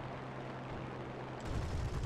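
Aircraft guns in a video game dogfight rattle in a dense, continuous stream under engine roar, growing louder and heavier in the last half second.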